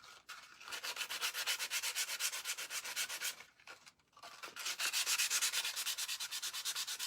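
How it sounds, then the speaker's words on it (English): Painted wooden letters being sanded by hand in a steady, rapid back-and-forth rasp, loud and close, with a short pause midway before the scrubbing resumes. "I'm just going to sand them so the other color comes through."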